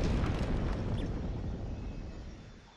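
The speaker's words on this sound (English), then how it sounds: "he can cause mental explosions" Rumbling explosions from a boss's attack in Kingdom Hearts, a broad roaring boom that swells at the start and slowly fades over a few seconds, loud and dense with no talk.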